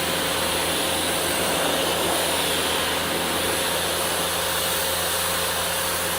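Steady pressure washer spray hissing continuously against a car's painted body panels, loud and close, a dense broadband rush with a low motor hum beneath, no voices.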